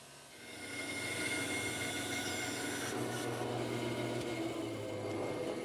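A saw rips lumber into strips about two and a quarter inches wide, a loud, continuous rough roar that swells up in the first second and holds steady throughout.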